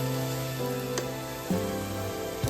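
Ground turmeric, coriander, cumin and black pepper powder fry quietly in a pan with a low, steady sizzle, broken by a few brief clinks or stirring scrapes.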